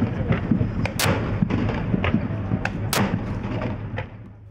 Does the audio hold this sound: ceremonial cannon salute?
yes